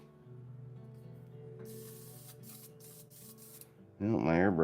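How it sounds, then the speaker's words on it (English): An airbrush spraying paint onto a model figure, misbehaving: a low hum with faint tones, then short hissing bursts in a broken, spluttering rhythm, ending in a louder voice. "my airbrush is giving me some trouble here"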